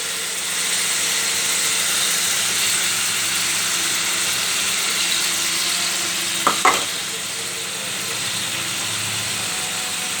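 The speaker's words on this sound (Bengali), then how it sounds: "এবারে এটা মশলাটা একটু ভাজা হোক" Onion paste, tomato and garam masala powder frying in a pan give a steady, close sizzle throughout, with a couple of brief clinks from stirring near the middle.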